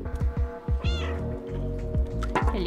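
Cat in the video game Stray, a chatty run of short meows and chirps in quick succession, close and clear over a low background hum.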